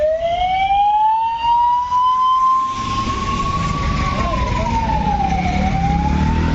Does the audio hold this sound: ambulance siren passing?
yes